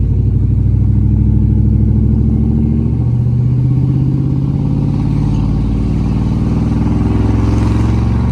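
A 5.9L truck engine with new mufflers on a true dual exhaust revs up, its deep throaty rumble rising and falling through several pulls, loud and close, with no talk.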